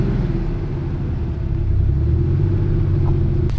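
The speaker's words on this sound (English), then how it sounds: "But I managed to start the car at least." Idling flat-six engine of a Porsche 964 Carrera 2, a steady low rumble close by with a constant hum running alone throughout.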